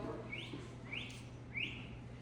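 A person mimics a groundhog's alarm whistle with three short rising whistles evenly spaced, heard over a steady low hum in a quiet indoor gathering.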